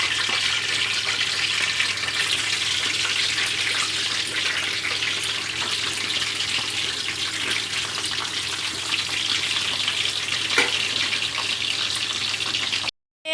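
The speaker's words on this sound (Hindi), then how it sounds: "हम इसको अंदर फ्राई पैन में डाल देंगे" Chicken bread patties fry in a frying pan, giving a loud, dense, continuous hiss of oil that holds steady throughout before cutting off abruptly at the end, with no voices.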